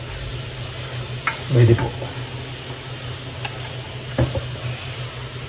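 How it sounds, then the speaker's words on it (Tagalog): Ginger, onion and garlic are sautéed in a pan with a steady close sizzle and occasional stirring knocks, while a person speaks briefly over the cooking. "tayo ay magigisa. Tayo may luya, sibuyas, bawang."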